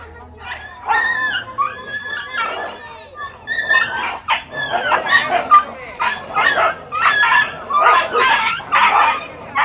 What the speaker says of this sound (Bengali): একটা কুকুরকে সবাই মিলে মারতেছে কেন